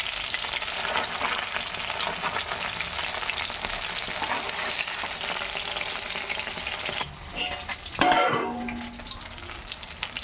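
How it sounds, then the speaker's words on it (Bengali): Fish pieces fry crisp and reddish in hot oil in a pan, giving a steady, dense sizzle for about seven seconds before it drops away, followed by a brief clatter. "এই যে আমার মাছগুলো এটা ভাজা হয়ে গেছে"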